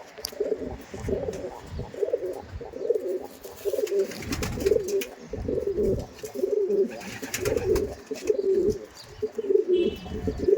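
Madrasi pigeons, a male and female breeding pair of tournament-quality birds for sale in Dum Dum, coo close by in repeated throaty bursts roughly every second, alone without voices.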